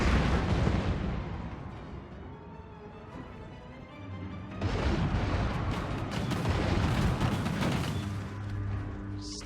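Skaven jezzail sniper rifles firing from a hill in Total War: Warhammer, a dense, continuous barrage of battle gunfire and booms that swells louder halfway through, with no talking.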